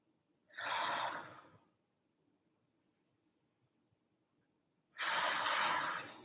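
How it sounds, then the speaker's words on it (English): Two deep, airy breaths, one slow inhale drawn into the back and ribs and then a second long breath after a quiet pause, close and alone with no talking. "Now I'm going to take a nice deep breath in."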